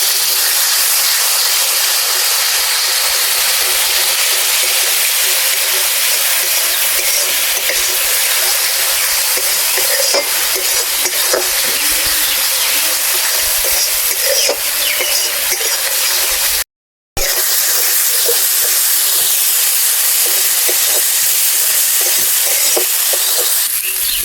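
Spice paste for a duck egg curry fries and is stirred in a pan, a loud, continuous close-up sizzle and hiss with scraping, broken once by a brief silent gap.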